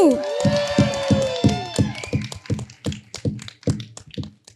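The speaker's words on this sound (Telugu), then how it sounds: "but I think a big round of applause to our hero Shri Vishnu గారు" An audience gives actor Sree Vishnu a round of applause, the claps landing in a fairly steady, rhythmic beat with a brief voice at the very start.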